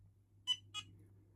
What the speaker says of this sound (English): why did you beep at me?